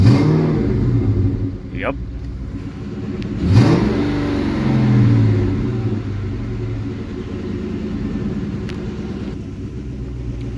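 A 1999 Ford Mustang Cobra engine idles with a low rumble, then is revved up and settles back, close and loud, with people talking briefly over it.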